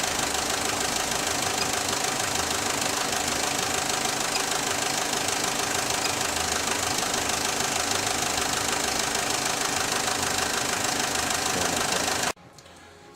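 A 2005 Fiat Scudo with a 1.9 common rail diesel engine runs steadily with a dense, knocking diesel clatter, loud and close for about twelve seconds before cutting off abruptly.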